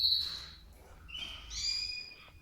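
Canaries in an indoor bird room give high, bright calls and warbling trills in several overlapping phrases at moderate loudness, with no talking.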